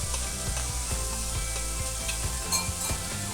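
Meat and green beans sauté for a traditional paella valenciana, a steady close sizzle broken by repeated stirring scrapes against the pan, with background music running underneath and no speech.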